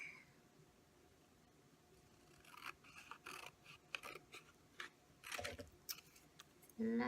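Scissors snip out paper lettering in a few quiet, scattered bursts of crisp cutting and rustling, starting after a near-silent stretch, with a louder handling noise at the very end.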